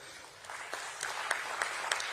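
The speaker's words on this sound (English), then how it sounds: "We can have a round of applause." Audience clapping at a corporate memento handover ceremony, a short burst of scattered applause with a few distinct claps, moderately distant and fairly soft.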